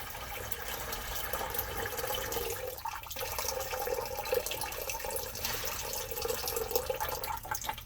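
Water sloshes and trickles steadily as a bucket aboard a boat is emptied, a continuous close splashing wash with brief pauses and dribbles, no talking.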